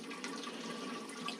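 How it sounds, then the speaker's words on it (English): Steady trickling and splashing of beer mash draining during home brewing, a continuous close wash of water with no breaks. "So the mash is finished now, so that's draining"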